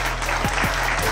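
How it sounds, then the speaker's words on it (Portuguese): A brief burst of clapping from spectators at a street running race held at Forte Marechal Hermes, steady and fairly close, lasting only a moment. "Até pedi uma salva de palmas pela atitude"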